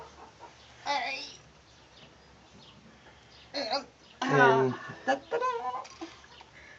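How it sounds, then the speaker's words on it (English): A broody hen clucks softly in short low bursts, close by, with quiet background noise and a brief spoken word. "listen, she's just clucking a little bit"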